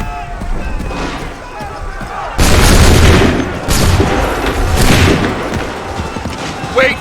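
A musket volley in Assassin's Creed 3: a loud, broad crack of massed gunfire, then a second blast and a rolling rumble that fades out over several seconds.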